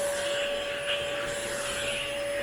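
A vacuum cleaner runs in a steady, continuous whine while it cleans heavily hair-covered living room furniture, with no talking.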